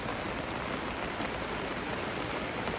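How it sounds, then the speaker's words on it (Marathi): Heavy rain pours steadily on a village riverside by flowing water, a dense, continuous hiss of drops close by with no voices. "पण आता आला पाऊस आहे जोरात"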